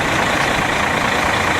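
A tour bus engine idles in Poland, a steady low rumble with an even mechanical drone, close and continuous with no talking.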